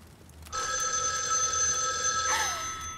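A telephone rings loud and close in a single sustained electronic trill that starts half a second in and runs to the end, with no voices over it.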